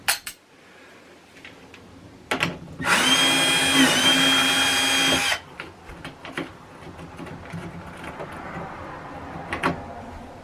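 A power drill drives a big self-tapping screw into an RV bed frame, a single steady whirring burst of about two and a half seconds between softer handling knocks and clatter.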